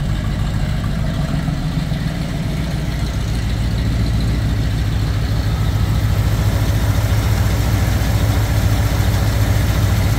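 A 1968 Ford Torino GT with a 390 V8 idles steadily, a loud, close, rumbling burble with even low pulses throughout and no talking.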